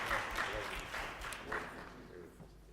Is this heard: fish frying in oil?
no